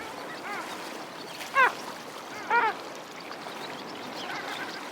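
Long-tailed ducks call in a breeding flock near the Arctic Circle: two distinct yodelling honks stand out at mid distance, with fainter answering calls scattered over a soft background.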